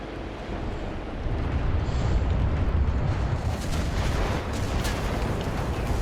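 Continuous rumbling battle roar from the Normandy map in the game Enlisted, heavy booming explosions from a grenade launcher blended into a dense, loud wash of gunfire and blasts with no clear separate hits.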